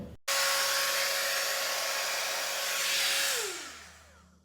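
A 5 in 1 hair styler switches on with a click and runs as a loud, steady blowing whir, then its motor pitch slides down as it winds off near the end, with no speech.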